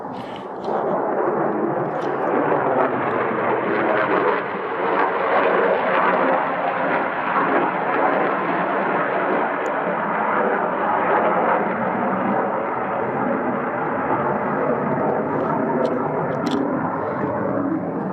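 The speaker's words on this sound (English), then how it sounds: "That was a B-1 bomber. Pretty much dead overhead." A B-1 bomber passes almost directly overhead, its jet roar a broad, steady rumble that stays loud and even for the whole stretch, with no talking over it.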